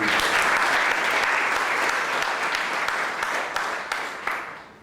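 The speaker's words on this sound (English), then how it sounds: "A round of applause for" An audience at an exhibition event applauds, a dense, loud burst of clapping that holds steady and then tapers off over about five seconds.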